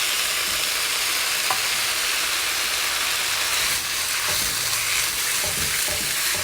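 Keto pad thai noodles with added sauce stir-fried in a pan, giving a steady, loud broadband sizzle throughout with occasional faint scrapes of stirring, no voices.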